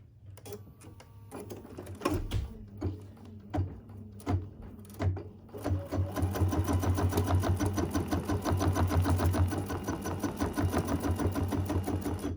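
Sewing machine stitching a mini quilt, starting with a few short bursts and clicks before settling into a continuous, even stitching whir that runs close up to the end.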